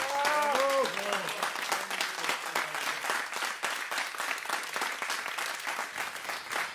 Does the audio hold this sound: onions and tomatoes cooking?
no